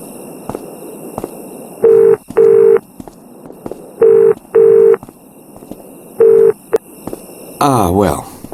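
Telephone tones from the video game Broken Sword: The Angel of Death after the caller hangs up, a string of steady beeping pulses in pairs with short gaps, closing on a brief warbling electronic burst.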